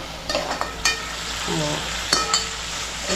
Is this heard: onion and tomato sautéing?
yes